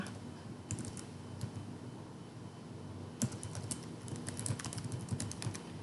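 Typing on a computer keyboard to enter an email address, a quiet run of irregular key clicks with a few sharper taps, close and alone with no talk.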